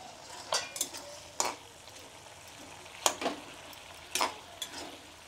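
Lid lifted off a pot of dumur (fig) cooking with chalkumra seeds, giving several sharp metallic clinks and scrapes spaced across a few seconds over a quiet kitchen background.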